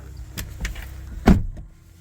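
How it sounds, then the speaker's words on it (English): A Volvo XC40 car door shuts with a solid thud after a few brief mechanical clicks and a motor whir, followed by a quiet interior. "Let's just close the door."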